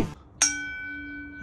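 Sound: gong struck

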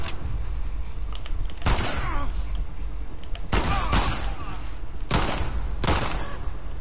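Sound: gunshots in The Last of Us video game

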